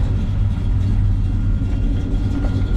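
A 1965 Chevrolet Chevelle Malibu with a 396 big-block V8 on a test drive, its engine a steady, close, deep rumble with no talking.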